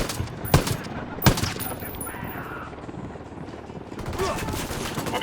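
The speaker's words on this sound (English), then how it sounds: "Tango heard the gunshot." Gunfire in the shooter game Ghost Recon Wildlands: two sharp, loud gunshots spaced about a second apart, followed by quieter rumbling ambience and faint voices.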